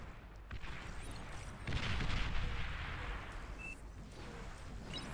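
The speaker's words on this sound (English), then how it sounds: "The artillery here from the shell shockers is still just making Magnina's life terrible." Distant artillery barrage in the real-time strategy game Beyond All Reason, from shell shocker units in an 8v8 match: a continuous rumbling wash of booms and crackling impacts, swelling louder midway and holding steady.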